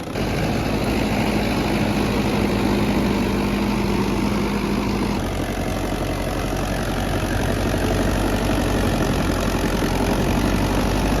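Loud, continuous diesel roar from a Sonalika 60 DI 4x4 tractor with a 4712cc engine under heavy load on a super seeder, holding steady with a slight shift in tone midway and no talking.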